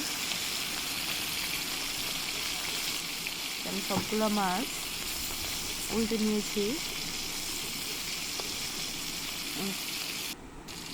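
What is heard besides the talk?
puti fish frying in a pan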